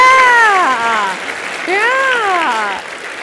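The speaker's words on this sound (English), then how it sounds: "Clap it up for the nerdiest competition since BattleBot." An audience at a Bay Area research slam competition claps over a steady wash of noise while two long, rising-and-falling whoops ring out near the front.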